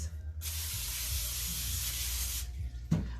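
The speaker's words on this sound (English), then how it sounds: "let me spray this" Cooking spray hisses onto a parchment-lined baking sheet while making sweet potato and peanut butter cookies, a single steady close burst lasting about two seconds, alone with no talking.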